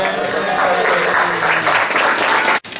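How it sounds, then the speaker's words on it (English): A crowd claps continuously in a thick, even round of applause that holds steady at close range, then cuts off abruptly just before the end. "So let's give her one more round of applause."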